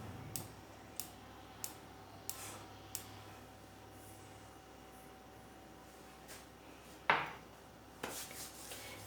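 A gas stove burner is lit in a home kitchen before ghee is heated for halwa. A run of sharp, evenly spaced igniter clicks is followed by a louder whoosh as the flame catches, with no one talking.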